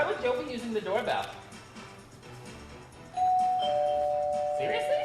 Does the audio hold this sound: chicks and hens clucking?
no